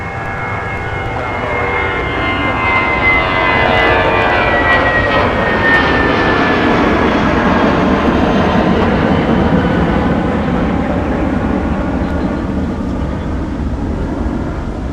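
An Airbus A320 jet takes off from a snowy winter runway at MSP airport, a loud, sustained engine roar with a rising whine that peaks midway and holds as the aircraft climbs away, heard from a distance with no talk.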